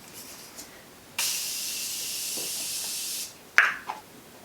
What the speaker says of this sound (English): locking everything in place with my Morphe setting spray